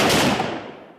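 Gunfire during army commando fire-and-move training, a dense burst of shots that starts loud and decays over about a second with no talking.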